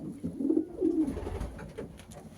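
Pigeons cooing in a loft at evening, a few soft, low throaty coos close by, with faint rustling between calls.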